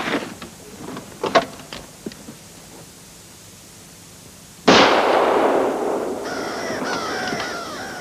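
Several sharp bangs crack out in the first seconds, then a loud blast at mid-clip followed by a long noisy roar with scattered bird-like caws behind it.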